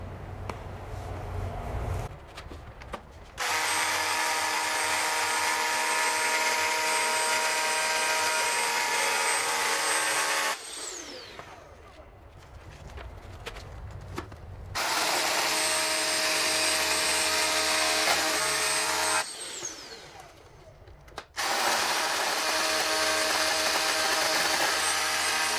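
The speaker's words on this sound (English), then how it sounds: "now I changed the drill bit and we are going to make the final holes." A power drill whines in three long, loud runs separated by short pauses of quieter rattling, as holes for network cable are bored one after another.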